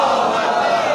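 A large crowd at a Muharram majlis in a mosque and imambargah roars the Nara-e-Takbir slogan in unison, one loud, sustained massed shout filling the hall.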